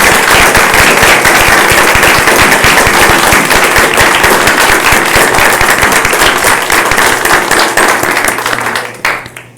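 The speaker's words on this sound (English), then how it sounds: "let's give them all a round of applause" A meeting hall crowd at a Board of Commissioners session applauds volunteers with dense, steady clapping that fills the room for about nine seconds before tapering off at the end.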